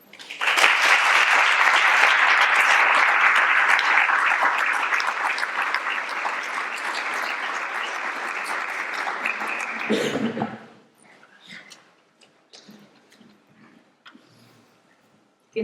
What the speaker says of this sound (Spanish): me gustaría que diese un aplauso a Tino también.